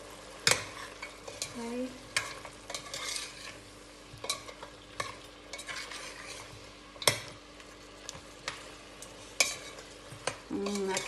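Ingredients for dalcha sizzling and frying in a pan, with a spoon repeatedly scraping and clanking against the metal in sharp irregular knocks over a constant fry; one brief word spoken.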